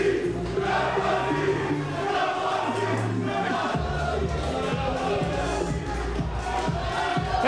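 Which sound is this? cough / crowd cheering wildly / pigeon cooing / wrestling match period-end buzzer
crowd cheering wildly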